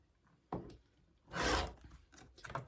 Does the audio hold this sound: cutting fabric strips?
yes